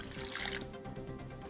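Hot water pours into a bowl to dissolve gelatin, a close, continuous splashing gush that rises and then settles into a softer trickle.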